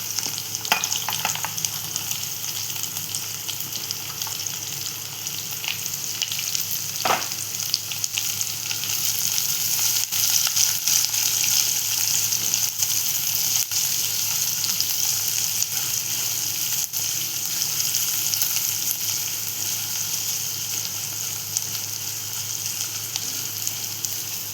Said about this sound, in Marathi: आता आपण इथे कांदा मस्त परतवून घेतलेला आहे